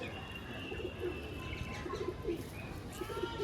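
Pigeons coo softly in a repeated low murmur, with a few faint chirps and a steady background hum; a pair of black-marked pet pigeons, a male and a female, kept for sale.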